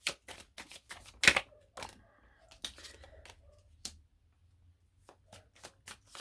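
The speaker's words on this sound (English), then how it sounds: "I don't want to stop shuffling." Erotic tarot cards being shuffled by hand, a run of crisp riffling snaps and soft slides in bursts with short pauses, close and quiet, with no talking.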